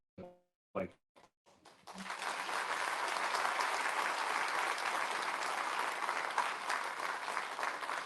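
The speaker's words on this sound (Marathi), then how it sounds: "तेवढ्याच ऊर्जेने टाळ्या वाजल्या" An audience breaks into sustained applause that swells after a few scattered early claps and keeps going as a dense, even wash of clapping, heard from some distance.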